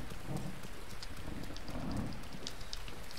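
Steady rain pours down in a video game in a dense, even hiss with scattered drops pattering, constant and moderately soft, no voices.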